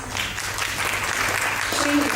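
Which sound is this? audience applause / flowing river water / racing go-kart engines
audience applause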